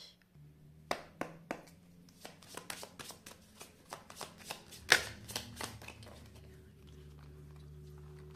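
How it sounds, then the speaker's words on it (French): Oracle cards are shuffled by hand in a quick run of soft riffling slaps and flicks, with one sharper snap partway through, then fading out, faint and close against a low steady hum. "on va passer maintenant au message avec l'oracle du mar de café"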